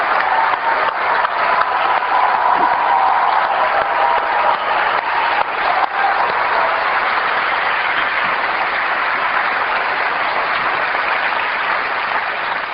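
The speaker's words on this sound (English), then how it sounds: "take a round of applause" A large audience at a 1999 Apple product launch event gives sustained, loud applause that rolls on evenly for over ten seconds with a steady crowd roar and little variation.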